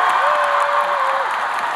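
Dense, steady applause from a concert audience in Shanghai, greeting the guitar teacher at a tour show, with cheers mixed in and a sustained voice heard briefly over the crowd.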